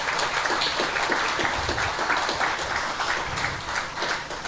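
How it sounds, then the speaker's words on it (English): Audience applause at a school staff dinner, a dense, steady clapping that stays fairly loud throughout without a clear rise or fade. "give a Miss a round of applause for her effort in helping us"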